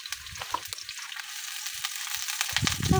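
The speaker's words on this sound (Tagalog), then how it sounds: "Sotayin na natin yung ating garlic and onion." Garlic and onion sautéing in a hot pan, a steady close sizzle and crackle with a few soft stirring knocks, swelling louder toward the end.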